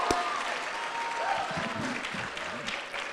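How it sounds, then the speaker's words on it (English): An audience applauds at a live comedy show honoring a local cable access team, steady dense clapping filling the room throughout, with faint voices murmuring underneath. "let's give them a round of applause"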